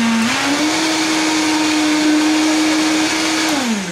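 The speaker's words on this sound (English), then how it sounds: "put the Vitamix on high and go like this" A Vitamix blender running on high, a loud steady motor whine with a brief rise in pitch at the start and a drop at the end, close and alone.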